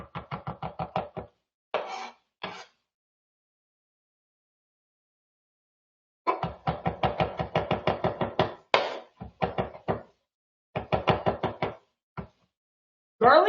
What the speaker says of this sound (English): not worrying about how finely I chop this today because it's going to soften up